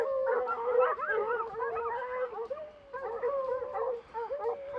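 A puppy yips and howls in a rising, wavering series of cries at moderate distance, continuing with short breaks, near a canvas tent camp in lion country.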